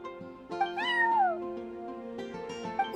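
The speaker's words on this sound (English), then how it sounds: "that's my neighbor's cat" A cat meows in the Genshin Impact video game: a single clear, close meow with a rising then falling pitch over a steady musical background, followed by softer game sounds.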